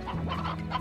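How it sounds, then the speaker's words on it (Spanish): A farm chicken in the video game Slime Rancher gives a quick burst of clucks, close and fairly loud, lasting under a second. "Vamos a dejar un pollito aquí."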